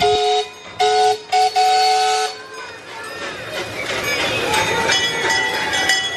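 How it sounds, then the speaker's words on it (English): An amusement park train blows several loud tooting horn blasts in quick succession up close, then rumbles steadily past with rising rolling noise, with people talking nearby. "Gotta wait for that train to go by."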